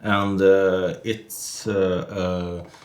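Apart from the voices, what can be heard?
None of the usual background noises is heard.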